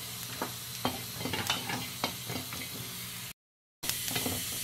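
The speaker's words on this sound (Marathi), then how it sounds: "त्याच कढईत मिरच्या लसूण घालायचं आहे भाजायला" Green chillies and garlic fry in a pan for thalipeeth, with a close, steady sizzle, scraping stirs, and sharp clicks, broken by a brief silent gap before the sizzling resumes.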